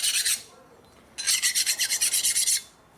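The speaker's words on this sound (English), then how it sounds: "File the rod like I did the other one." A hand file is worked across a Harley 45 ci flathead WL connecting rod, a short rasping stroke followed by about a dozen quick, even strokes, close and clear with no talk.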